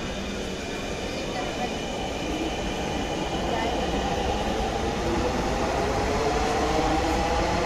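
A metro train stands at a city station during the morning office rush, a steady loud rumble and hum filling the clip while passengers board and alight, with speech faintly under the noise.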